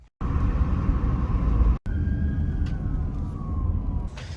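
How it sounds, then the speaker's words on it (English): Police sirens wail at a distance amid city traffic near an Orlando thrift store in the evening, a faint falling siren tone sitting over a steady road rumble, with a brief cutout partway through. "There are cops everywhere, tons of lights and sirens."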